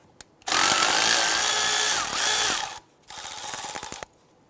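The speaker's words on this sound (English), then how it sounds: "Using a 12mm socket, I'm going to go ahead and remove the bolt holding the flex line to the strut" Power tool spinning a 12mm socket to back out the bolt holding the flex line to the strut on a 2001-2005 Honda Civic: two loud whirring bursts, the first long and the second shorter and pulsing, separated by a brief pause.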